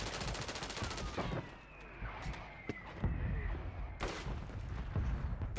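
Machine gun fire during a Call of Duty Warzone match: rapid bursts of automatic shots crackle densely over a busy game mix, fading briefly mid-clip and returning strong toward the end, with sharp single reports scattered through.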